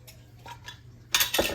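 A fork works pork fat into dry biscuit ingredients in a bowl, giving a quiet scraping and soft clinking that builds into a louder, brisk burst of metal-on-bowl clatter near the end.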